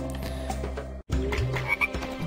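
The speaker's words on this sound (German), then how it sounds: "da ist ein Frosch und da ist ein Frosch" A frog croaks in the forest level of the video game A Boy and his Blob, with repeated low, throaty croaks, close and clear over a steady game background, broken by a short silent gap.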